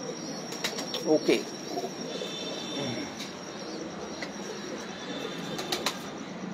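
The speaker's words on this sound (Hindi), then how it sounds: "कितने सारे कबूतर जितने भी आ रहे हैं" Several pigeons in a fancier's loft coo softly while wings flap in brief bursts, with someone speaking briefly over them.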